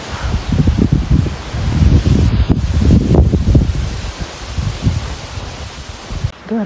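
Gusty wind rushes through garden foliage on a hot May day, a loud, steady rustle with swelling gusts that eases toward the end.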